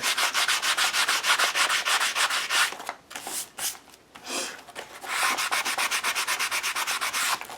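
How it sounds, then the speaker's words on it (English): Sandpaper rubbed briskly across a book page to make an altered-book background, in fast rhythmic scraping strokes that pause midway and then resume at the same close, steady pace. "So I'm just going to sand it and rip it up some."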